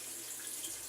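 Water pours steadily into the tub of a Magic Chef washing machine being filled for a load of blankets, a continuous close rushing hiss with no talk.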